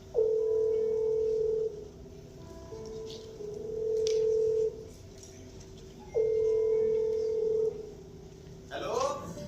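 Telephone dialing tones, with several long steady beeps in a pattern at moderate level, then a short rising chirp at the end.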